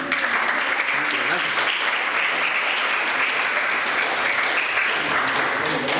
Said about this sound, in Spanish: Demos un aplauso a nuestro invitado